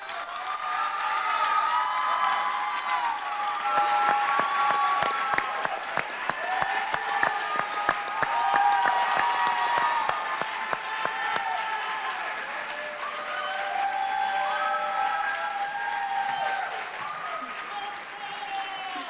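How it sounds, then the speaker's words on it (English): An audience bursts into sustained applause with dense clapping and a few cheers and whoops at a university public policy challenge finals, loud and filling the room throughout, fading slightly toward the end. "I'm sure you can tell by that applause that you definitely hit the audience."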